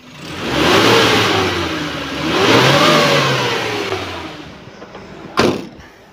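A 2014 Suzuki Carry 1.5 pickup truck engine revs up twice from idle, each rise swelling then easing back, followed by a sharp clunk near the end.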